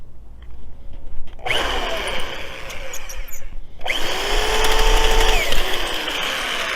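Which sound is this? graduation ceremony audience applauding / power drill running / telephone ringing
power drill running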